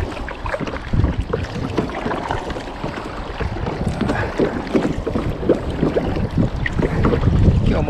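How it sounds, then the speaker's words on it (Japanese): Strong wind buffets the microphone on a kayak out fishing. The rumbling gusts are loud and continuous throughout, with no talk. "今日は風がひどいです。"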